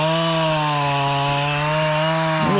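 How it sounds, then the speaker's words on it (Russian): A chainsaw felling trees in a Karelian forest runs as a steady, loud, close engine drone with no break and no voices. "Просто вырубают на корню весь лес."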